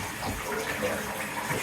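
Water runs steadily from a bathroom tap, a continuous broadband rush with no clear pauses, fairly close and moderately loud.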